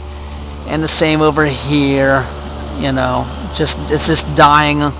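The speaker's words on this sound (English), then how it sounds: "I'm going to turn this fan off for a second." A low, steady electric fan drone runs continuously beneath someone talking nearby.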